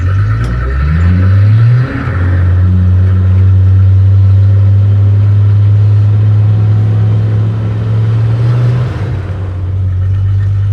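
A 1966 International pickup's engine lugs low in second gear, a loud, steady deep chugging drone held at very low RPM with a brief dip near the start, close and continuous with no talk.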